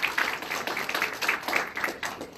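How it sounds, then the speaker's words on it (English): Audience applause at an information technology event at a university, a steady dense wash of clapping that stays even and moderately loud for the whole stretch with no talk over it. "they really deserve a big round of applause"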